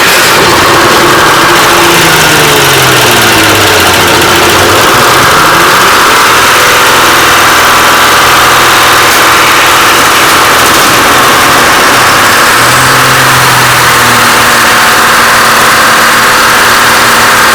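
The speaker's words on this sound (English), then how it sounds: "these are 271 Detroit diesel generators." Detroit Diesel 271 generator engines rated at 20 kilowatts run in the engine room of a headboat fishing fleet. They make a loud, continuous diesel drone with a low rumble that shifts in pitch, close up and with no talking.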